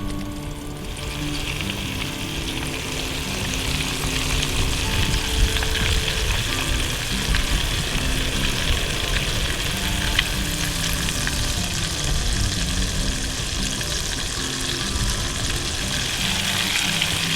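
Steady, dense sizzling of fish frying in hot oil, continuous and fairly close, with faint crackles and no talking.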